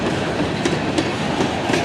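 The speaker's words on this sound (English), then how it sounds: "There's a second train passing it." A CN freight train rolls past nearby, steady rail rumble with repeated clickety-clack wheel beats over the joints, loud and continuous with no talk.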